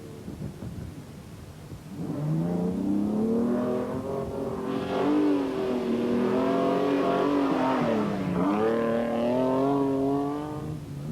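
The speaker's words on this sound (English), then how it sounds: "In T1, for standard cars, two Nissans were battling for the lead, Spaniard Salvador Servia and Frenchman Thie" Nissan standard-class rally cars compete in the 1993 Atlas Rally Raid in Morocco, one engine loudly revving up and down through the gears as it passes close by, with no voices.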